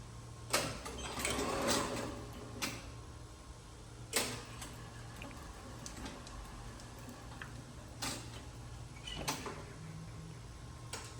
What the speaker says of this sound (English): that is the motor that turns the gear